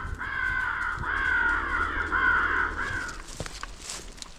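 Crows caw repeatedly in a steady series of harsh calls during a spring coastal crow hunt, loud and fairly close, fading out with a few scattered knocks near the end.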